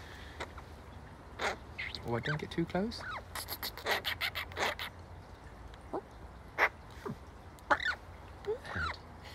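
Crow cawing close by in short, repeated calls with scratchy rubbing sounds, heard alongside someone talking to the bird.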